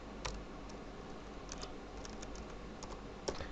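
Quiet, scattered keystrokes on a computer keyboard, a handful of soft clicks over a low steady hum.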